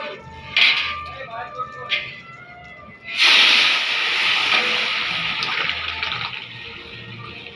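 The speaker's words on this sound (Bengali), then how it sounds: "তেল গরম হয়ে গেছে, তেজপাতা, শুকনো লঙ্কা, জিরে ফোড়ন দিলাম।" Bay leaves, dried chillies and cumin dropped into hot oil give a sudden loud hissing sizzle that holds steady and slowly eases, after a few faint clinks of utensils.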